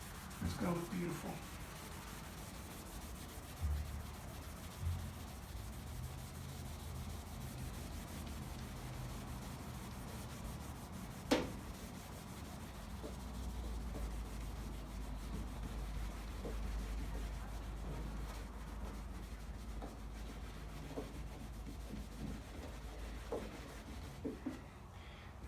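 Car paint being rubbed by hand with Lukat polishing compound: a faint, steady scrubbing texture runs throughout, with a low rumble in the middle and occasional small knocks.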